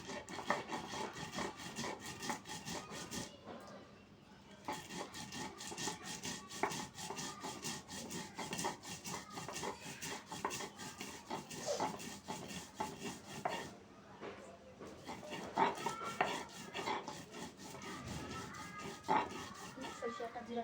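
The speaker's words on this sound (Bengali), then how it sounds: "সরিষাটা জিরাটা বেটে নেব।" Mustard seeds and cumin are ground by hand into a spice paste, producing a steady rhythmic rasping, rubbing scrape that repeats back and forth at close range, with a few brief pauses.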